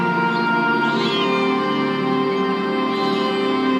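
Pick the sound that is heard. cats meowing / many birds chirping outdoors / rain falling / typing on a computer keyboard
cats meowing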